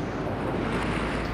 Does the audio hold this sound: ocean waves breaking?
yes